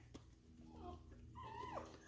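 Puppies whimper in a few thin, high whines rising toward the end, close and fairly quiet over steady room hum in a home during a live show.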